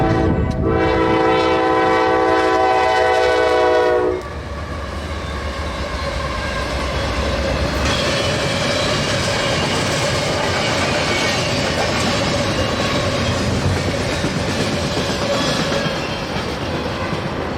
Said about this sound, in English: Today's Q007 was being led by CSX ES40DC number 5350 and rebuilt AC4400CW number 7010.